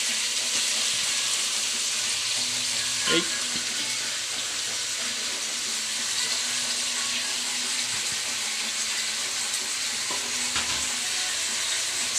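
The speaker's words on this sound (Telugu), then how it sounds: "మనమైతే ఇప్పుడు మటన్ వేసుకుంటున్నామండి" Mutton fries in a pan with ginger paste and Guntur spices, a steady, even sizzle lasting about twelve seconds, with a few brief clinks of a stirring utensil.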